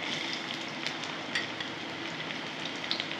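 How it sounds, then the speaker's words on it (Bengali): Chopped onion and green chili sizzle in hot oil in a pan, a soft continuous fry with occasional small crackles and pops, fairly quiet and close. "এগুলো একটু লাল লাল করে ভেজে নেবো বন্ধুরা"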